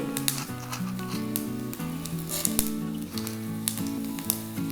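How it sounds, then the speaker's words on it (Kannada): Mustard seeds, black peppercorns and cumin fry in hot oil, a soft crackling sizzle with small pops sitting beneath louder stepped background music. "ಎಣ್ಣೆ ಕಾಲಿದೆ ಸಾಸಿವೆಯನ್ನು ಹಾಕ್ಕೊಳ್ತಾ ಇದ್ದೀನಿ"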